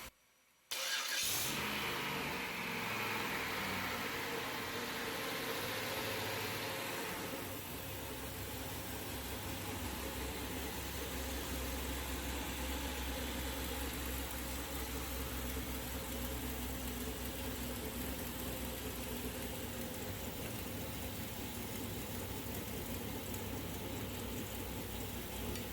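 A 5.3L LS V8 swapped into a turbo Mazda RX-7 cranks and catches after a second of quiet, then settles into a loud, steady, rumbling idle that carries on without pause.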